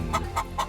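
Chicken clucking close up, three short, evenly spaced clucks over a steady low background.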